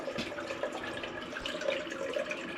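Water drains steadily from a residential gas water heater tank being emptied before a valve replacement, a continuous close hiss and trickle of flowing water with no voices.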